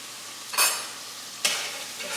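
Rice seasoned with sazon and ham seasoning stirred in a frying pot, with two bursts of scraping stirring over a steady low sizzle, close and moderately loud, no talking.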